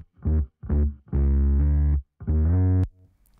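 Heavily distorted bass notes played in four separate phrases, one held longer, thick and buzzy with a wide, effected tone, then a quick fade.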